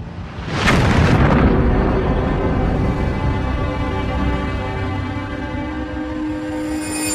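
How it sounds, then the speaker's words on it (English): A violent explosion blasts apart Darnley's bedroom in a lodging, a sudden loud boom followed by a long rolling, rumbling roar of debris that slowly fades while staying heavy throughout, with no voices. "an explosion destroys Darnley's bedroom"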